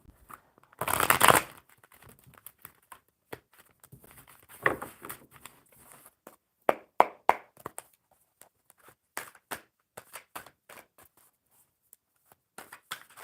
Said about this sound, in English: All right, one more good shuffle